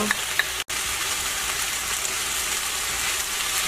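Dried eggplant namul stir-frying in perilla oil gives a steady, close sizzle that barely changes, broken only by one momentary gap.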